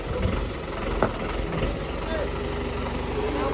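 A tractor's diesel engine runs steadily at low idle, a constant rumbling drone with a few brief knocks and clanks near the start.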